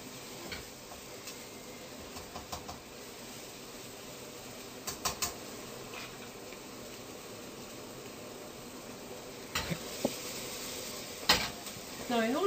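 Soft, steady sizzling of vegetables frying in salmon fat in a pan, with occasional clinks and stirring scrapes against the metal.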